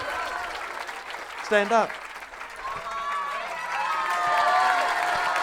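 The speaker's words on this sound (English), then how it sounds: "round of applause for the artist" Applause and crowd noise from a kirtan gathering for the performing artist, rising to a fuller, steadier clapping toward the end, with a brief shout and voices mixed in.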